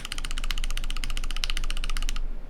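JWK switches on a Nooir Noland N1 keyboard are typed in a steady, rapid stream of bright, clicky keystrokes that stops abruptly near the end, heard close with no voices.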